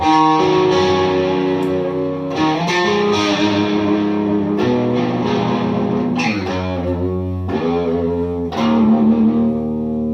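An electric guitar played through a BOSS overdrive/distortion pedal, with drive and color set a bit past noon, ringing out gritty sustained chords and lead notes with several changes, steady and loud with no talking.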